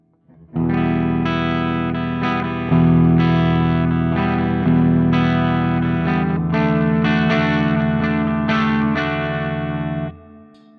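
An electric guitar on the bridge humbucker plays chords through a Marshall JCM2000 TSL60 amplifier with its deep switch on, giving a thick, slightly driven, bass-heavy tone, sustained strums for about ten seconds, no voices.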